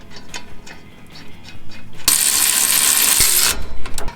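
A ratchet tightens the 19 mm caliper bracket bolts on a Nissan during a wheel stud replacement, with a fast continuous clicking run lasting about a second and a half, then a few softer clicks.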